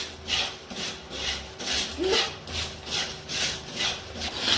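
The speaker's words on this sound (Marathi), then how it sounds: "आता मम्मी मीठ भाज भाजत आहे" Salt is dry-roasted in a pan for papad-making, a steady rhythmic scraping and rasping as it is stirred, about two strokes per second, fairly close and moderately quiet with no talk.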